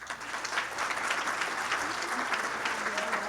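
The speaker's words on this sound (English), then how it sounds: "please join me in a round of applause" Sustained applause from an audience, steady dense clapping throughout, fairly loud and close, with a faint murmur of crowd underneath.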